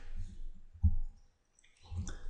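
A single sharp computer mouse click lands just under a second in, set between brief stretches of quiet room noise and faint background murmur.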